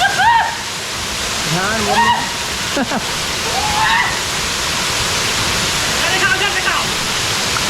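Panari waterfall roaring loud and close, a dense constant rush of falling water that fills the whole scene, with people talking over it now and then.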